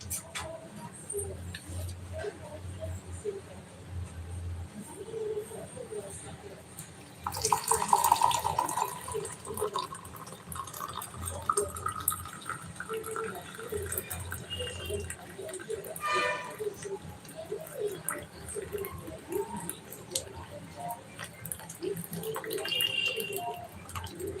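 Pounded drumstick leaf soup is poured through a filter, giving a faint, trickling liquid splash that swells briefly, then settles into quiet dribbles over a low background hum.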